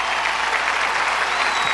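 Steady, dense applause fills the room continuously from a live audience at a Kannada Ugadi comedy chat show, loud and close with no pauses.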